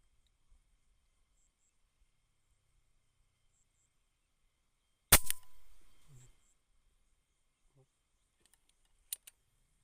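An air rifle fires over an 80 m range: a single sharp, loud crack with a short fading tail midway through the quiet, then a much fainter snap near the end.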